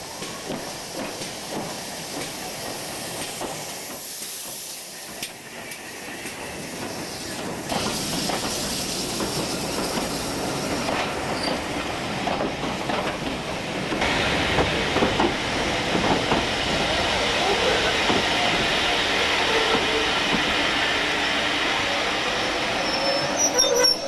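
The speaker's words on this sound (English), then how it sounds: "we have to wait here for the train coming up from Winchcombe" A train hauled by the steam locomotive City of Truro arrives at a single-line heritage station, a rumble and hiss building gradually from faint to louder, with faint rail clatter.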